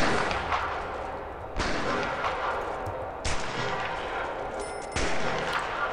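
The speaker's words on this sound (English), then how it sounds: "This guy's shooting this guy over here." Gunfire from a prisoner shooting inside a Prison Architect game, with three heavy booming shots spaced about every one and a half seconds, each followed by a long rumbling decay.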